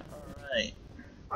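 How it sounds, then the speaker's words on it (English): A pet dog yips and barks briefly in the background, one or two short sharp calls while someone speaks a word up close. "Sorry if you hear my dog in the background"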